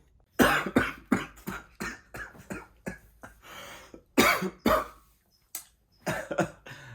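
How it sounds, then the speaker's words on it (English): A long fit of harsh, repeated coughing from a person with COVID, close and loud, the bursts coming in uneven clusters with short gasping pauses between them. "And then I cough."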